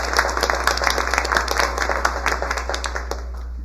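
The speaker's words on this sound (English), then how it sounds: "Let's applaud their accomplishments." Applause from the audience at a school board meeting, a lively spatter of many hands clapping at close range over a constant low mains hum, gradually thinning out toward the end.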